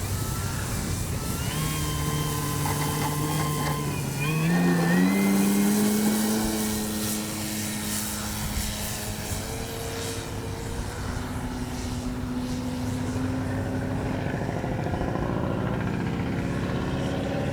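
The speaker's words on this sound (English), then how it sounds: "Absolutely beautiful plane." A Hangar 9 Valiant RC airplane with a 20cc gas engine flies overhead on a windy day over grass, its propeller drone holding a steady loud tone that rises in pitch as it throttles up and passes by.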